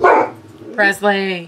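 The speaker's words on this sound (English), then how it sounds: "Sorry about the dog barking." Indoors, a dog gives a loud bark followed by two shorter yipping barks in quick succession, close by, with a voice briefly overlapping.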